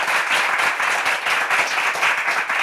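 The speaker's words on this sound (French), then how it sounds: "On peut applaudir Jérémy." A room full of people applauds a contestant at a Bible quiz, dense steady clapping at moderate volume, continuing without pause throughout.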